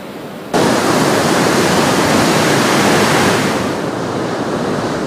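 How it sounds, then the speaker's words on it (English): A creek running high with dirty water and debris after a drought, a loud, dense rush of flowing water that starts suddenly and continues steadily, easing slightly toward the end. "our creeks are flowing once again"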